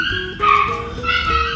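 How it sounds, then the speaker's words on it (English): A dog outside barks and yips in a short run of high, whiny calls at close range, with no talk over it. "There's a dog outside."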